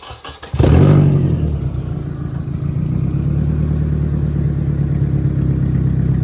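A Nissan S14 with its factory muffler removed starts up and revs, a loud, raw, close exhaust bark that settles into a rough, steady idle, with no talk over it.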